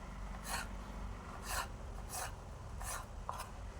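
Raw jackfruit being cut with a knife, five separate rasping strokes about a second apart over a steady background hum, with no talking.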